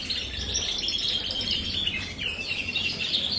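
Gloster canaries chirping in a breeding birdroom, a busy overlapping chatter of bright tweets and short warbled trills, fairly close and continuous over a low background hum, with no one talking.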